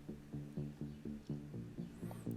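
A Moog Sub 37 synth plays steady low eighth-note plucks through reverb, with the filter gradually opening. The pulses are regular and evenly spaced, quiet, with no other sound.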